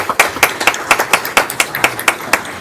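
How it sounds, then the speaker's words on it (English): A small audience claps at a school board meeting: a few people's hands making sparse, individual claps in an uneven rhythm over a couple of seconds, moderately close, with no cheering. "We can applaud that, I know, as a veteran."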